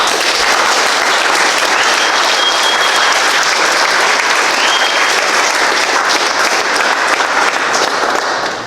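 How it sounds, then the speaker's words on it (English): Sustained applause from a workplace group honoring a coworker on his last day, steady dense clapping throughout at even loudness, close and alone without talk. "Give him a round of applause."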